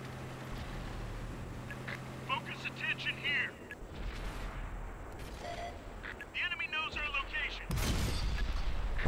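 Artillery fire in the World of Tanks video game, several sharp booming blasts scattered over game noise, with people talking throughout.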